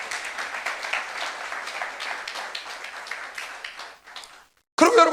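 Congregation at a Korean church youth service clapping together, rhythmic applause that fades out before a sudden loud noise at the end.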